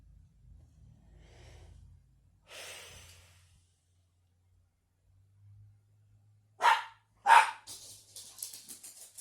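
A dog barks twice, loud and close, in two sharp bursts followed by a few quieter yips, after a stretch of faint low rumbling and soft breathy sounds.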